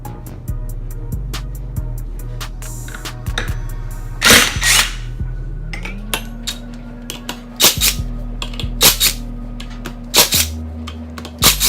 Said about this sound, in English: I'm going to take my impact gun to remove mine